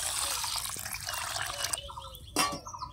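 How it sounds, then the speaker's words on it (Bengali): Basmati rice is rinsed in water in a kitchen, with close sloshing and trickling that breaks off into quieter drips and a short splash as the water is swirled. "চালটা একটু 2 বার ধুয়ে তারপরে ভিজিয়ে দেব।"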